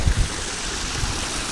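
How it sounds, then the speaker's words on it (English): Water spills steadily from a backyard pool waterfall, making a continuous, even rush of splashing water close by, with no voices. "And the waterfall."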